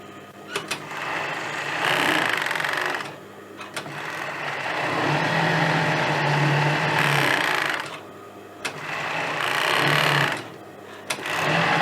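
A sewing machine runs in long steady bursts while finishing the raw edges all around a pair of trousers, with brief pauses between stitching passes, loud and close.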